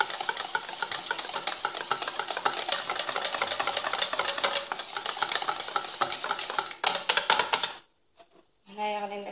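Cheesecake batter being mixed with cheese, a fast steady rattling whir of a mixer or whisk working through the bowl for several seconds, close and busy, then cutting off abruptly before a short voice at the end.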